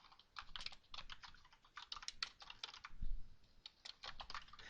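Quiet, fast typing on a computer keyboard while entering a spreadsheet label. Irregular bursts of light key clicks run through the whole stretch, with brief gaps between words.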